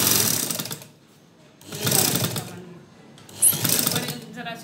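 A sewing machine runs in three bursts while stitching the fitting seam of a churidar pajama, loud and close with short pauses between runs; a voice may be faintly present.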